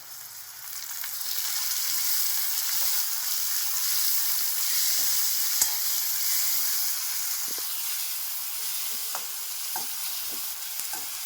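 Tomatoes sizzle and get stirred in a pan over softened onion and garlic while chole masala is cooked. The frying hiss runs steadily throughout, with occasional scrapes and taps of a spoon, and no one speaks.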